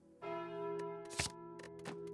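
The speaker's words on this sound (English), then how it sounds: "Just give me calling bell." The Calling Bell relic in the Slay the Spire video game tolls once as a loud resonant bell, then rings on and decays beneath several short clicks and soft card-like rustles.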